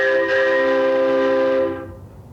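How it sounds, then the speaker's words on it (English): A chord-like train whistle blast from a theatre pipe organ, one sustained note held for under two seconds, then quickly dying away. "And here's the train whistle."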